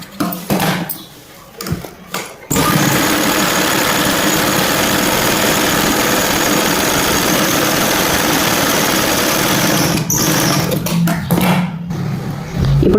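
An electric sewing machine stitches the lining of a child's lehenga, starting after about two seconds of quiet handling and running as a steady, close, unbroken whir for roughly seven seconds before stopping briefly and restarting.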